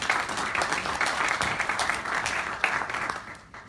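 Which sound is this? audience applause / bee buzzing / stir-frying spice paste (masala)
audience applause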